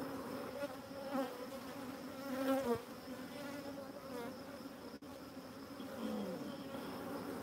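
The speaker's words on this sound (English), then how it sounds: "Big fat drone bee." Honey bees, including a large drone, hum steadily and densely around a backyard beehive, a close continuous buzz with small swells and dips.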